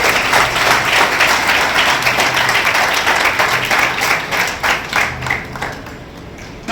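Children clapping together in welcome at a national competition event, a loud crowd of rapid hand claps that thins and fades toward the end.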